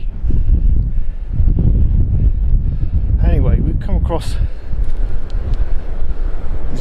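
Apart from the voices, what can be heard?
strong wind blowing against the microphone outdoors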